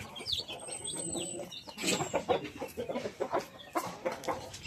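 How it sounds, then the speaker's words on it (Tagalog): Native chickens in a small farmyard cluck in irregular bursts, with sharper calls and faint chirps scattered throughout, fairly close and moderately loud, with no voices. "Native chicken."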